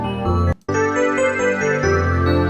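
Lush sustained string chords swell in the background of a layered arrangement of a track from Super Mario 64, with a brief dropout near the start before the full sound returns.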